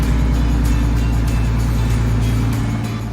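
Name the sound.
turbocharged car engine running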